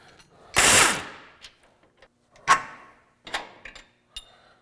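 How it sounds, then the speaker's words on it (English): A ratchet works loose the lower control arm mounting bolts on a truck during a 6.5-inch lift kit install, giving short bursts of sharp mechanical clicking separated by quiet pauses, close and fairly crisp. "removing the lower control arm mounting bolts up in this area here"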